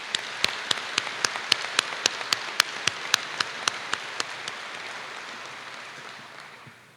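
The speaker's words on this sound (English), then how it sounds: "How about a round of applause for the folks that pulled this together?" A round of applause at a military change of command ceremony for the event organizers: dense clapping with sharp individual claps standing out, gradually thinning and fading away toward the end.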